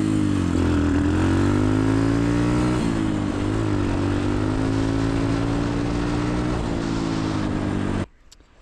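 A quad bike with a smoking 125cc engine runs loudly and steadily at close range, its buzzing drone holding with slight rises in pitch for about eight seconds before cutting off abruptly.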